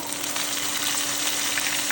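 Cumin, mustard seeds and curry leaves hit hot oil for a dhokla tempering, a short, steady, close crackling sizzle with no speech.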